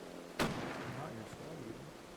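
In the military shooter Arma 3, a single sharp gunshot cracks out and leaves a rumbling echo trailing behind it, with faint voice chatter underneath.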